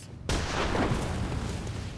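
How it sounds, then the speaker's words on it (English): Enemy gunfire in the video game Bloodborne: The Old Hunters, a loud sudden blast that cuts in after a brief quiet start and trails into a dense, sustained rumble of shots and booms with no talk. "I really don't want to fight 2 guys just spamming gunshots at me."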